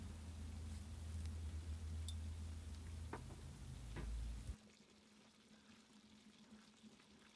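Cream made from milk skin sizzles and bubbles in a frying pan while being stirred, a loud close crackle that cuts off abruptly partway, leaving a faint low hum with no talking.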